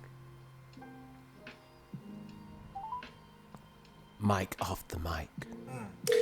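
A telephone dialing a call, faint tones and clicks at first, then louder voices talking near the end.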